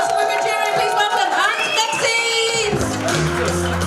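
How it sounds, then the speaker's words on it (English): Crowd at a live standup comedy competition cheers and whoops with clapping beneath, loud and continuous, while a voice on a microphone talks over the noise near the end. "All I need you guys to do is stand applause. Louder, louder, louder, so we're cheering."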